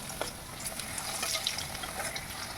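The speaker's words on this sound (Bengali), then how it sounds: "প্রথমে কড়াই বসিয়ে গরম করে তেল দিয়ে আলুগুলোকে ভেজে নেব।" Potatoes frying in hot oil in a kadai, a soft continuous sizzle with small crackles and faint stirring clinks, moderately quiet and without any voice.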